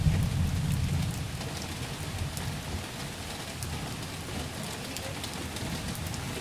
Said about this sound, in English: Oh, it's raining good. It's crazy raining.